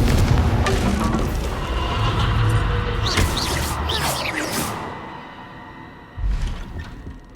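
Spell blasts from Hogwarts Legacy gameplay, with dense layered magical whooshes and bursts, then a short heavier boom near the end, steady game effects and ambience throughout.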